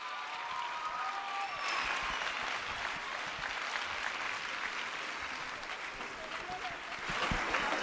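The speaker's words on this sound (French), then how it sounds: "Encore un tonnerre d'applaudissements, s'il vous plaît, pour les élèves." Thunderous applause for students at a school music concert at a French international lycée in Murcia, a full room clapping continuously with scattered voices and a few cheers woven through the sound.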